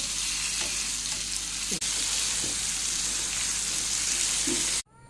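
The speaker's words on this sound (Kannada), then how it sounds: "ಫ್ರೈ ಮಾಡಲಿಕ್ಕೆ ಹಾಕಿದೆ ಇನ್ನು ಇದು ಮಧ್ಯಮ ನಿಧಾನವಾಗಿ ಫ್ರೈ ಆಗಬೇಕು" Fish frying over medium-low heat in a pan: a constant close crackling sizzle with a few soft clinks, then cut off abruptly near the end.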